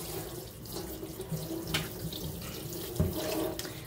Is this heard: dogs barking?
no